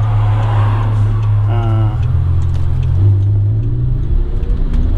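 Audi R8 V10 engine, first generation, held at a steady 2,200 RPM during an engine replacement job, a loud continuous low rumble close by with a slight rise midway, a voice speaking briefly over it.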